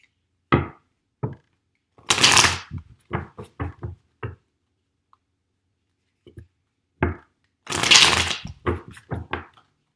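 Tarot cards shuffled and drawn from a deck during a reading, heard as crisp bursts of riffling with quick taps and snaps in between, close and clear, with no talk over them.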